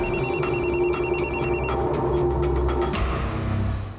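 A telephone rings with a repeating electronic trill in short bursts, loud and close over a low background hum, before the ringing stops.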